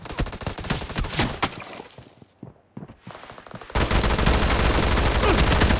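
Rapid bursts of video game gunfire fill the first two seconds, then thin to a few scattered shots before a dense, loud, continuous barrage takes over to the end.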